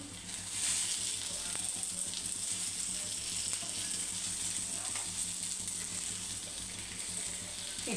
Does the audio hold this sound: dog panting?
no